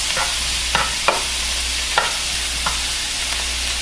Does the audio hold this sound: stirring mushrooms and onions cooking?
yes